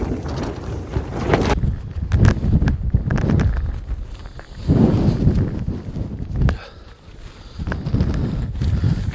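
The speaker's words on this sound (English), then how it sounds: "You can see it's a little bit windy." Strong wind gusts buffeting a tent at a UK campsite, loud roaring surges rising and falling in waves with heavy low rumble and microphone buffeting, no talking.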